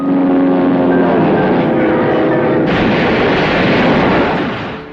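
Film battle sound of American fighter planes firing on a Japanese plane that crashes into a hangar: loud, dense roaring rumble of engines and gunfire throughout, swelling midway, then fading at the end.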